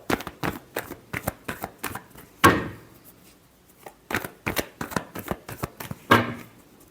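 A deck of cards is shuffled by hand for an astrology reading: a run of quick, crisp riffles and taps, close and fairly quiet, broken by two sharper bridge-like swishes with a short pause between.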